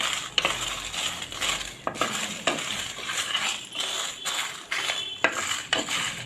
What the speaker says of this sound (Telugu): కొబ్బరి పొడి, గసాలు, ఎండుమిర్చి ఇవన్నీ వేపుకుందాం.